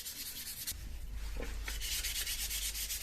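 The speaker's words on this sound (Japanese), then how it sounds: "磨いてみます。" Hand polishing of a Super Cub torque link rod, a steady close rubbing and scrubbing sound that starts light, then grows fuller and rhythmic with repeated strokes, loud and continuous with no talk.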